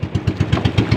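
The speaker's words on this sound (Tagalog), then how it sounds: "Nagluloko makina." Misbehaving boat engine on a fishing trip, chugging in an uneven low throbbing pulse at about eight beats per second, close and fairly loud, with no voices over it.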